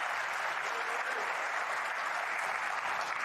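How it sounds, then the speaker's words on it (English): Sustained, dense applause with cheering from a snooker crowd after a 106 century break by Ronnie O'Sullivan, loud and steady throughout with no gaps. "There's the cheer from the crowd,"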